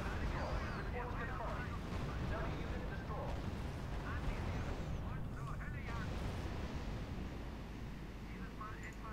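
Sustained gunfire and artillery from a real-time strategy battle in RUSE, a dense, continuous rumble of shots and blasts at steady loudness throughout.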